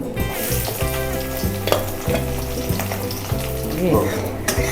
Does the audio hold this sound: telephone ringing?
no